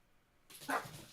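A single short dog bark or yip sounds fairly faint and close, cutting in after a quiet moment of room tone.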